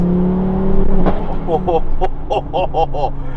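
A 400hp turbocharged Volvo sleeper wagon pulls hard from 35 mph and 2,500 RPM as boost hits, engine note rising into rapid stuttering bursts, with a voice speaking over it.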